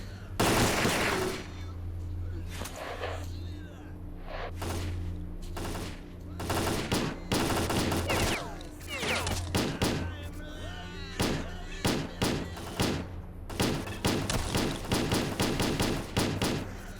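Gunfire from the player's weapon in the video game STALKER: Clear Sky rings out in loud bursts of rapid shots and single cracks, separated by brief lulls, with a voice talking in between.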